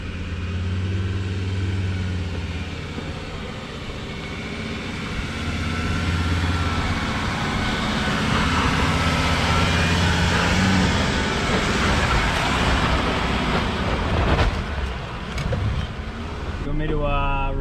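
4x4 engine pulling in first gear over rough off-road bog-hole tracks in Bellthorpe National Park, a steady low rumble throughout with cabin noise and people talking over it.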